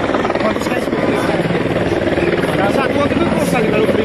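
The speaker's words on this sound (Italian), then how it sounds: "ma l'elicottero lo segui per tutta la gara?" Loud, close helicopter rotor thudding and turbine roar during the Giro d'Italia bike race at Villorba, a continuous pulsing drone with steady intensity.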